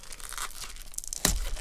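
Sealed plastic wrapping on a Pokémon Evolutions Prismatiques Elite Trainer Box is torn open up close, with crinkling and a sharp ripping burst near the end, no talking.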